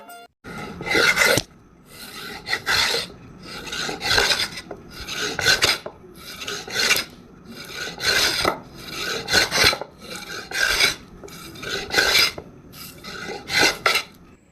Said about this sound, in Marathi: रंधा हे हत्यार लाकडांची सलपे काढून लाकूड आकारात आणण्यासाठी त्याचा वापर केला जातो